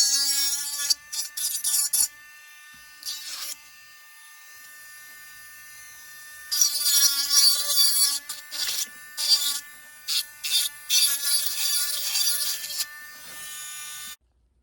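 A rotary tool trims the border of a clear plastic Essix retainer, giving a high whining buzz that cuts in and out in repeated bursts, with a long sustained stretch in the middle and brief pauses between passes.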